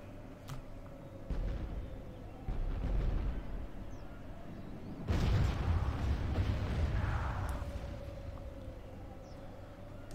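Mortars firing in a Total War Warhammer battle, several deep booms and rumbling impacts building to a loud burst midway, over constant battlefield din.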